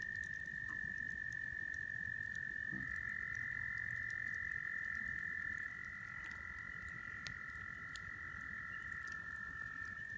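A bullfrog calls in the woods, a steady low croaking that lasts the whole stretch with no pause, heard at moderate distance over a constant high insect drone. Nobody speaks.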